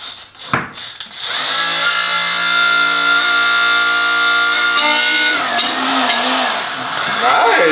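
An Ultimate Speed USOP 50 A1 electric oil pump, run from a 12-volt battery, pumps water with a loud, steady motor whine after a few clicks and handling noises at the start, and the pitch drops and wavers near the end.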